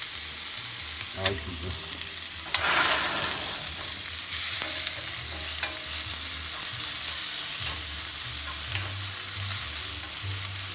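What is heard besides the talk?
food sizzling in pan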